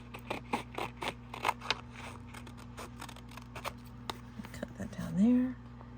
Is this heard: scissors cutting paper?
yes